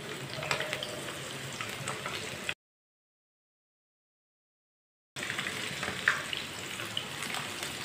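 An omelette sizzles and fries in a hot pan with a steady crackling hiss, soft and close, interrupted by a brief gap of silence before the frying resumes.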